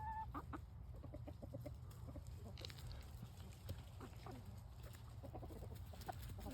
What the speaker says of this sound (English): Seems the chickens are going at it